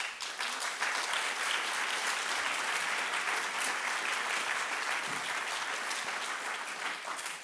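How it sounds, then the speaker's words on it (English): An audience claps steadily at a capital markets seminar, a dense and even wash of applause that keeps going for several seconds with no voices over it. "I think Commissioner Johannes Hahn deserves a big applause for that."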